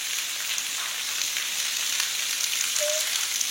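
Heavy, continuous rain falls over Tharparkar, a steady dense hiss of downpour at an even loudness throughout, with no voices.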